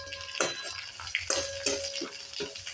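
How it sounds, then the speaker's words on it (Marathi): Green chilies fry in a pan alongside browned onion, a soft sizzle broken by a series of scraping stirs of the spoon at irregular intervals, close and moderate in volume. "आता आपण हिरवी मिरची तळायला टाकूयात"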